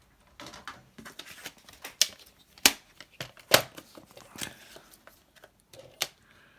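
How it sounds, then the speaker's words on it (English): A paper trimmer slices paper at a crafting desk, giving scattered sharp clicks, snaps and soft swishes of the blade and sheets, close up and fairly quiet, with a few louder cuts. "So let's get my paper trimmer out."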